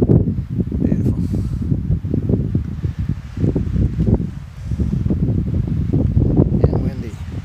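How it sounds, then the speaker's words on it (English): Strong wind buffets the microphone outdoors beside a big lake, a loud continuous rumbling roar with gusty surges throughout. "And windy."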